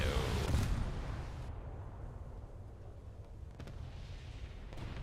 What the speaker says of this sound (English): Another torpedo hit.